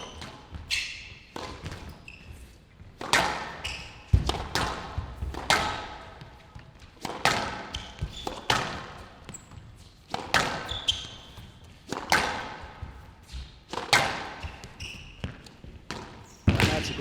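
Squash ball struck repeatedly in a men's U.S. Open rally, sharp cracks and thuds off racquet and walls in an irregular rhythm, moderately distant, with commentary voices underneath.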